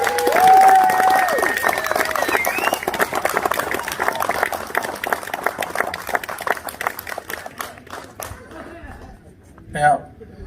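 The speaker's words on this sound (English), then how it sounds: "A big round of applause for Ray and the Lions Club." Audience applause for a local Lions Club at a community night out in Ensay, Victoria, a crowd clapping and cheering over chatter, loud at first then thinning out and fading toward the end.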